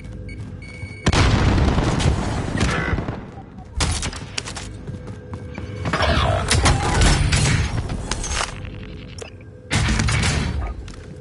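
Several heavy booms and bursts of gunfire erupt in Call of Duty's Pacific battle, including a frag grenade blast, each loud explosion cutting in sharply with quieter gaps between them.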